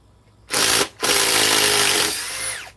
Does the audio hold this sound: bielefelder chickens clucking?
no